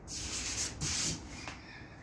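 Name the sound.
sanding a truck body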